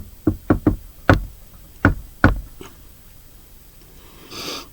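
A peculiar knock on a door: a quick run of three raps, then a few more spaced out and a last faint one, sharp and close, with no voice.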